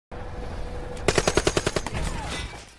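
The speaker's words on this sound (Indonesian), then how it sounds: "Dan Muse memberikan tembakan." Pirates boarding a cargo ship in a film fire a rapid burst of about a dozen sharp, evenly spaced gunshots over steady background noise, followed by a fading rumble.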